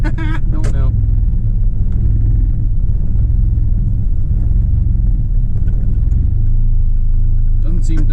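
The engine of a 25-year-old project truck, driven for the first time in six years, idles roughly as a steady, close low rumble, with brief speech at the start and end.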